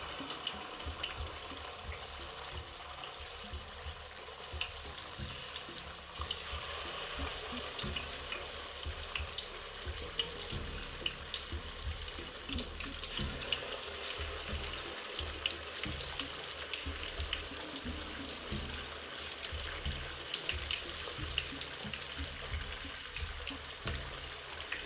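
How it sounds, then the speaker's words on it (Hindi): Marinated quail frying in hot oil, a continuous, fairly soft hiss and crackle of bubbling oil heard close up without any voices. "जब ये मैरिनेट हो जाए तो उसके बाद आपने इसको निकाल के फ्राई कर लेना है"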